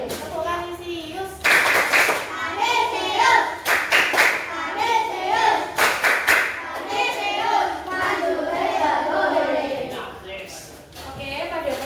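A class of schoolchildren doing the Kanisius clap routine, several loud rhythmic bursts of clapping in close sets, followed by children's voices chanting and talking.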